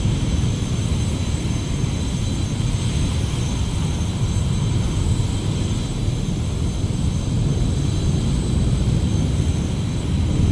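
An A-10 jet aircraft in a flight video game gives a steady, loud, continuous engine roar with a broad rumbling low end and a faint high whine, holding unbroken throughout.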